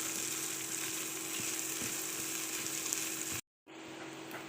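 Finely chopped carrots frying in a pan for carrot rice, giving a steady, close sizzling hiss that cuts out briefly near the end, then resumes.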